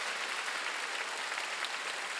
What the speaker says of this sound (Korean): 박수 좀 세게 쳐봐